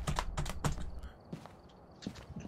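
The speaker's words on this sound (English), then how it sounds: "was that you mashing keys over there?" Computer keyboard keys are mashed in quick bursts, loud close clacks clustered early and then sparser single taps, with no talk.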